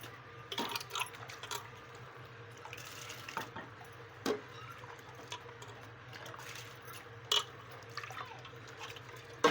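Basmati rice tipped into a pot of boiling water: a steady bubbling hiss with scattered sharp clicks and small splashes as the grains land, fairly quiet and close, with no one talking.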